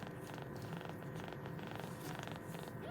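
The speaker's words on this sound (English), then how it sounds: "Somebody's purring here." A cat purrs steadily and close by in a quiet room, a continuous low rumbling throb with no talking over it.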